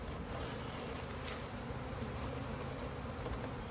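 A swarm of bees hums in a steady, dense drone, close and constant, with no voices.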